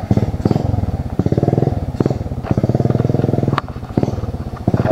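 A motorcycle engine idles and revs close by on a mountain road at Mt Pinagdanlayan, Dolores, Quezon, a steady rumbling putter with pulsing throttle surges, loud and continuous throughout.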